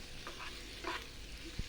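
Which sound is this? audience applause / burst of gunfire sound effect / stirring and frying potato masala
stirring and frying potato masala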